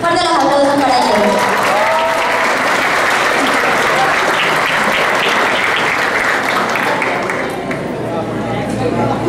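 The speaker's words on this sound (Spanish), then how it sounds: "Fuerte los aplausos para ellos." Loud, sustained applause from an audience at a high school graduation ceremony for science bachelors, dense clapping filling the hall with crowd noise and voices mixed in, fading slightly near the end.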